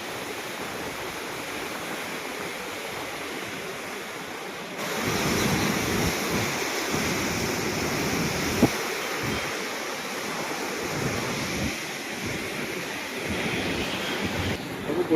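Loud rushing river water beneath an old bridge, a steady broadband roar with wind buffeting the microphone, swelling stronger midway and continuing without talk.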